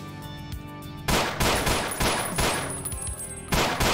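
Gunfire in the Ashes 2063 Doom mod: loud bursts of rapid shots, a few separate bangs followed by dense rattling volleys with short gaps between them, and no voices.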